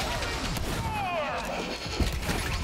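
Sniper rifle fire from Borderlands 3 comes as a sharp burst with a crashing impact, mixed with swooping in-game effects and a speaking voice in the background.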